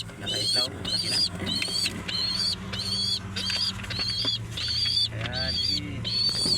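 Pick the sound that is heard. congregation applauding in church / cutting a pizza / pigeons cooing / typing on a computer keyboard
pigeons cooing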